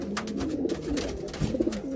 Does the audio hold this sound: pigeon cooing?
yes